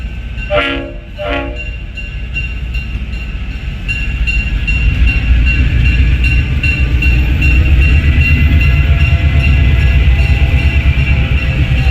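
A train rumbles past at close range, its horn sounding two short blasts near the start, followed by a steady, loud roar of wheels and engine.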